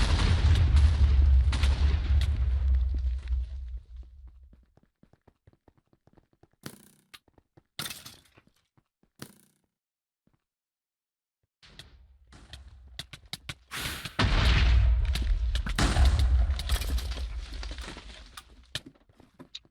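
Gunfire in a competitive video game match comes as heavy booming bursts, then a quiet stretch with scattered sharp single shots before another loud barrage swells and fades; no speech.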